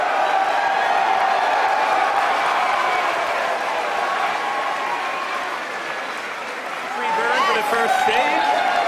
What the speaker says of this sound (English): you hear the cheering in the background